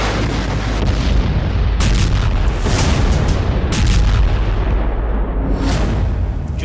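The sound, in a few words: explosion sound effect of bombing attack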